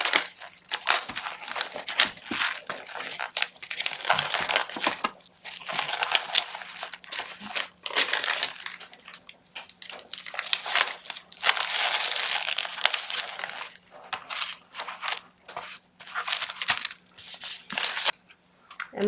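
Plastic medical drape being applied over a negative pressure wound dressing, giving continuous close crinkling and crumpling rustles with irregular bursts and brief pauses.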